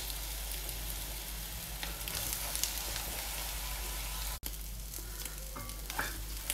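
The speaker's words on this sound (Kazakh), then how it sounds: "Және де жақсылап өкпені қуырып алу керек." Sheep lungs frying in rendered fat for kuyrdak, a dense continuous sizzle and hiss close to the pan, with a few faint stirring scrapes and a brief dropout partway through.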